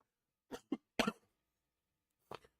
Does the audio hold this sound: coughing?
yes